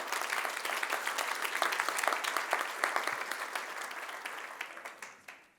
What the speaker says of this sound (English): So give yourselves a round of applause before we get started.